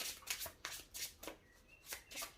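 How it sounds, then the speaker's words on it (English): Trading cards from a dueling deck being riffled and shuffled by hand, a quiet series of about six soft papery bursts in an uneven rhythm, close up with no talking. "Now, shuffle my deck."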